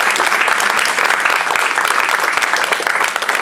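A church congregation claps and cheers in praise, dense loud applause filling the room evenly throughout, with a few voices mixed in.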